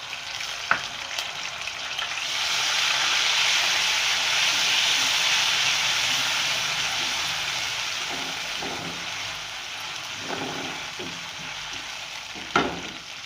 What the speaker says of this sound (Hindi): तो अब इस कंडीशन पे मैं इसमें डालूँगी 2 टेबल स्पून लहसुन अदरक का पेस्ट।